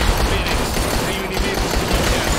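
Dense rapid gunfire in the video game Dead Rising 3, a continuous loud rattle of shots filling the whole stretch with no pause.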